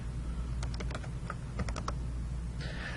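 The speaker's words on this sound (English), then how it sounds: "I could type in that student's last name" Keys clatter in a quick burst of typing on a computer keyboard as a name is entered, a run of crisp taps over a steady low hum with no talking.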